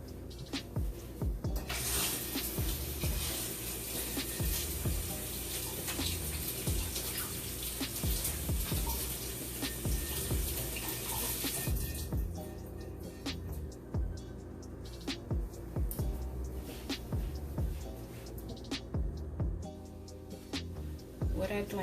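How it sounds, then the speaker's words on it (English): A kitchen tap runs steadily while hands are washed during turkey wing preparation; the rushing flow fills roughly the first half, then shuts off, leaving quieter splashes and handling sounds. "let me wash my hands off"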